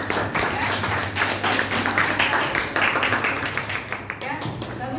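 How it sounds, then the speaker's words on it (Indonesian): Classroom applause at a high school, students clapping in a steady patter throughout under overlapping talk. "tepuk tangan untuk ya."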